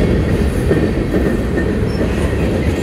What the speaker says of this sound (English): Yeah, it's a big train.